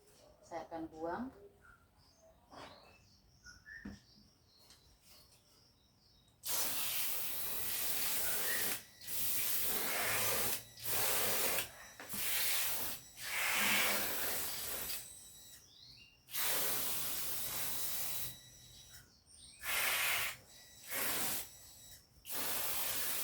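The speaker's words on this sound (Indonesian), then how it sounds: "saya melakukan semprot kasumin ini 1 minggu 2 kali" Kasumin fungicide is sprayed onto an Aglaonema houseplant in repeated loud hissing bursts from a hand sprayer, some long and some short, with quieter gaps between them and faint handling noise at the start.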